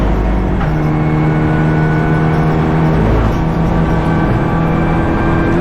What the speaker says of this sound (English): the leading pack of Sobchik and Stefančić, the latter now launching one up the inside and taking the lead off of the 777 car